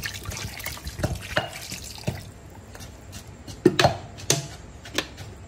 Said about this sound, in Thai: มาดูสิคะนี่เทน้ำลงในหม้อแล้ว